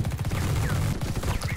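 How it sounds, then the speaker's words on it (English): Sentry turrets in the video game The Red Solstice fire rapid, continuous automatic bursts, a dense rattling stream of shots that runs loud and steady through the whole moment. "Let the sentry turrets do the work."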